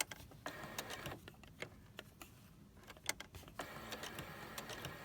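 Home sewing machine stitching a fusible butterfly applique, working the small antennae one stitch at a time with pivots; short bursts of stitching alternate with pauses, some sharper clicks, fairly faint throughout.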